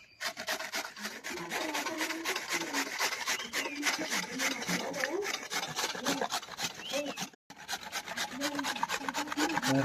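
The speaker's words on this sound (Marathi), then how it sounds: "सगळं बारीक बारीक किसून घ्यायचं आपल्याला असं एकदम बाटीला घासून किसून घ्यायचं आहे" Raw mango is grated by hand in steady, rhythmic rasping strokes against a grater, close and continuous, with only a brief break near the end before the scraping resumes.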